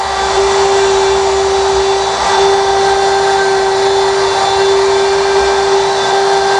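A Festool router trims wood for a SOSS hinge installation on yacht joinery, a loud, continuous motor whine with a steady high tone and airy rush, close up and unbroken throughout.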